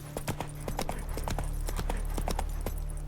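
Roach, the horse in The Witcher 3, gallops with rapid, evenly spaced hoofbeats over a low steady game background hum.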